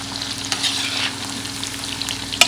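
Marinated chicken 65 deep-fries in hot oil with a continuous bubbling sizzle and scattered crackles, ending in a sharp clatter near the close.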